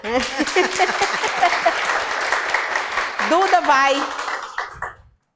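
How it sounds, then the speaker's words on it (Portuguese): An audience applauds in a room at a parents-and-students gathering, a dense steady wash of clapping with voices and cheers mixed in, fading out at the end. "Aplausos para Duda."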